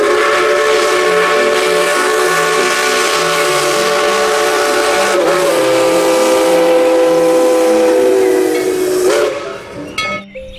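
A toy Thomas train lets out a loud, sustained hissing steam whistle with a chugging melodic pattern underneath, running steadily for about nine seconds before cutting off into brief clatter.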